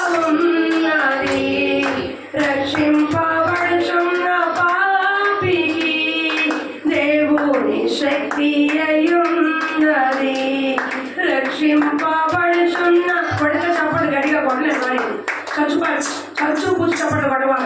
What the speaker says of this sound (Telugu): చప్పట్లు కొట్టవాలి. కొడితే గట్టి కొట్టను అందరూ కలిసి.